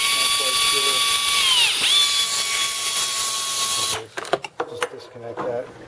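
A HeliCoil 8522 power tool, part of an air-powered kit with hose and regulator, whines steadily with a high tonal hum for about four seconds before stopping, after which faint handling clatter and brief sounds follow.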